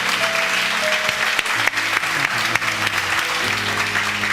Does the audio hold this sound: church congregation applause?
yes